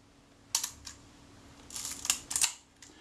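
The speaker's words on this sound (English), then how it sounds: "make sure that the shutter releases smoothly" A Retina IIC rangefinder camera's shutter is released several times in quick succession, giving crisp, quiet mechanical clicks close by against a near-silent room with no talking.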